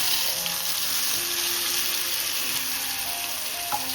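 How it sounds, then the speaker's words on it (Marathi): Masala paste frying in hot oil gives a steady, close hiss of sizzling with a faint stir clink near the end, no one speaking. "असं तेलामध्ये फ्राय करून घेऊ."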